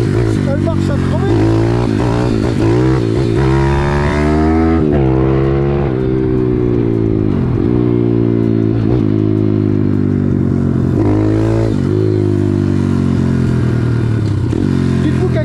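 YX 140 pit bike engine, home-built with the original long exhaust line, revving hard and loud throughout with repeated rises and drops in pitch, and someone talking over it.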